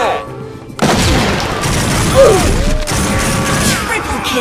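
A grenade blast in the game SWAT 4, a sudden loud boom that cuts in abruptly and leaves a sustained rumbling roar, with gunfire-like crackle and game sounds around it.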